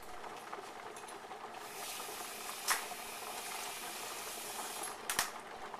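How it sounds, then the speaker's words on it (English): An electric kettle boiling water, a steady faint rushing hiss and bubbling that fills the whole stretch, with two brief clicks or knocks standing out, no voices. "And this one's still boiling."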